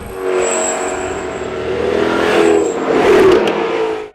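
A Lamborghini Jalpa sports car engine running loud and close, a steady droning note that swells and rises as the car revs, then cuts off abruptly.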